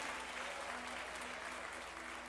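Steady applause from a church congregation, continuous and dense throughout, with no voices standing out above the clapping.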